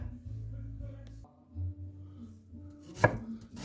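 A sharp knife chops a Maui sweet onion on a board: one crisp, loud chop lands near the end, after quieter handling and a low background hum.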